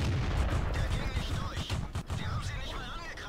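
A Su-85B tank in World of Tanks fires repeated heavy cannon shots in battle, booming blasts and crashes layered over engine rumble, with someone talking over the gunfire.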